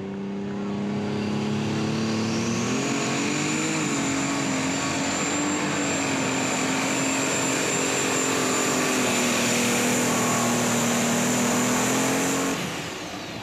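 An Out of Time unlimited super stock pulling tractor roars down the track at a pull, its engine note rising and holding loud and sustained with a high whine on top before cutting off.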